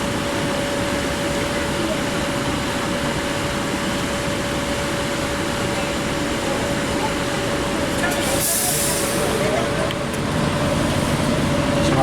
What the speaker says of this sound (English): This is a Jamaica train, stopping at all airline terminals.